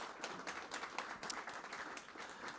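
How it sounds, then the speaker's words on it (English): Audience applause at a Lithuanian defense and dual-use ecosystem event held around a NATO summit: a soft, steady patter of many hands clapping from across a hall, fairly faint and continuous. "round of applause for him."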